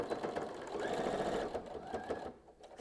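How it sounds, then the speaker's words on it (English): Sewing machine stitching a trifold Kraft-tex wallet, a steady close mechanical whir running the whole time before easing off near the end. "All right, so let's stitch this one down."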